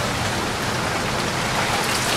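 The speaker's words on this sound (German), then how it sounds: "Ganz leicht höre ich es an den Scheiben, weil es an den ganzen Scheiben hier rasselt." Hail rattles against the window panes during a dangerous thunderstorm line over Austria, a dense, steady patter with no gaps, fairly loud and close throughout, with no voices.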